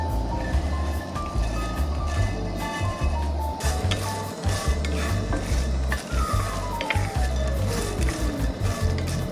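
Home-grown coffee beans stirred in a pan as they roast, giving a continuous close scraping and rattling with a steady rough texture throughout, no voices.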